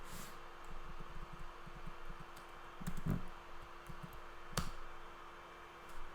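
Computer keyboard keys are typed in steady, quick runs while writing HTML and CSS code, with close, soft clicks and a few louder strikes over a low background hum.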